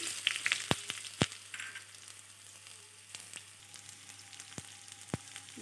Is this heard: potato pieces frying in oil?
yes